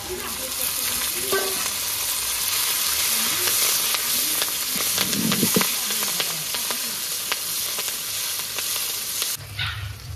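Cumin, radhuni, dried red chilli and bay leaf sizzle steadily in hot oil for a Bengali kochu shaak dish, a loud continuous crackle with scattered sharp pops, a brief low thud midway and a dog barking faintly in the background.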